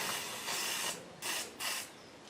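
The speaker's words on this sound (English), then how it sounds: "Shall I spray it with penetrating fluid and leave it till tomorrow?" Penetrating fluid sprayed from an aerosol can onto a seized part of a Harrison M300 lathe apron, heard as three close hissing bursts of about half a second each, separated by short gaps.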